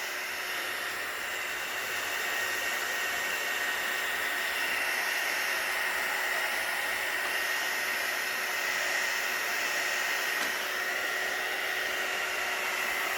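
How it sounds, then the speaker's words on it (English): A craft heat gun blows hot air at a low heat setting, used on a vintage nightstand makeover, giving a steady, loud whooshing hiss with a faint whine that holds unbroken throughout, with no talking. "this doesn't get very hot, so this is just a craft heat gun"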